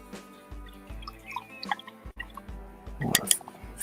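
A paintbrush rinsed in a water jar makes soft dripping, swishing and clinking sounds, close and quiet, with faint background noise.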